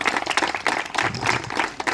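An audience claps at a kabaddi prize-giving ceremony on Women's Day, a brief burst of dense, steady applause at moderate volume.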